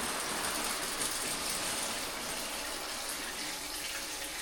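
Tap water runs steadily in a continuous close gush, as when rinsing hair on a wash day, with no talking over it.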